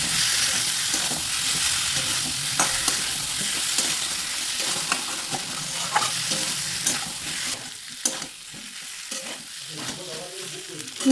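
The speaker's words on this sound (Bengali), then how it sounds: "এর মধ্যে আগে থেকে ভেজে রাখা কাঁঠাল আর আলুর টুকরোগুলো দিয়ে দিলাম। দিয়ে দেওয়ার পর মশলার সাথে ভালো করে মিশিয়ে নিতে হবে।" Fried jackfruit and potato pieces being stirred into sizzling masala in a pan, a steady close crackle with repeated scraping stirs, and no voices.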